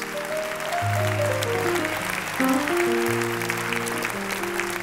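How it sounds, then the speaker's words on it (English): Church congregation applauding in a hand-clap offering, a steady wash of clapping under sustained organ or keyboard chords throughout. "let's give God a good hand clap offering for his word today."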